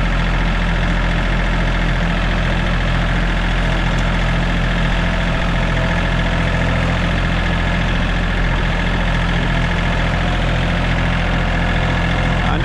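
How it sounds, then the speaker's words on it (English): A tractor engine idles in an overgrown lot being cleared, a loud, steady low rumble with constant vibration and no change in pace from start to finish. "I bought this tractor to do all this cutting"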